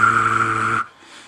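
A loud Xbox 360 console fan gives a steady whirring drone with a piercing tonal whine for under a second, then cuts off abruptly to a faint hiss.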